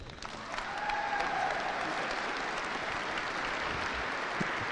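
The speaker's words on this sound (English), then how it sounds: "please a round of applause" Applause from a gathered military unit audience at a commanders call, a dense steady round of clapping that swells in the first second and holds evenly to the end, with no voices over it.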